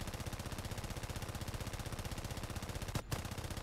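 Aircraft front gunner machine gun in a video game, fast steady rattling fire continuing throughout at moderate level, broken by one brief gap near the end.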